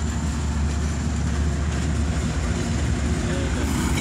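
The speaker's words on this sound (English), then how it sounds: "And 4678 Kansas City Southern ES44AC." A Kansas City Southern ES44AC freight locomotive rolls past, producing a loud, continuous low rumble with a steady wash of wheel and rail noise throughout.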